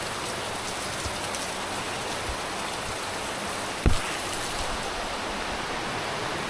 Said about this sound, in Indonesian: Ini hujan deras men, tapi berhubung banyak pepohonan jadi terlindung gitu